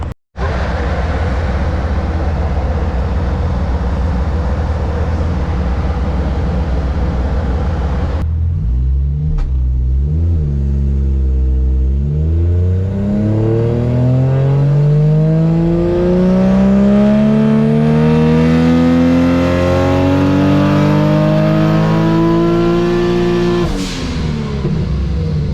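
Toyota Supra Mk IV engine revved on a dyno for racing-game audio recording, a loud close roar that drops to a rumble and then climbs steadily toward redline before the throttle lifts, with no talking.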